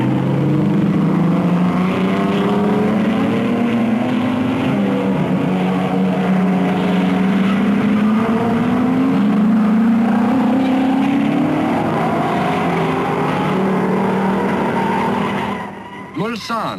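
Racing cars at the 1955 Le Mans race, Ferrari among them, roar continuously with rising and falling engine pitch as they pass, loud and sustained, with a commentator's voice over the engines.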